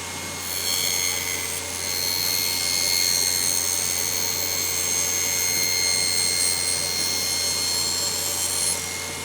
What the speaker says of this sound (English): Now I'm using my mini table saw sled to cut the parts to length